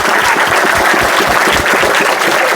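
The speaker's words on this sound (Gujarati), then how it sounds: "પાછા છોકરાને તાળીઓથી વધાવી લ્યો બધા" A crowd of schoolchildren and adults clapping for a young pupil, a dense, loud, continuous round of applause close by with no talk.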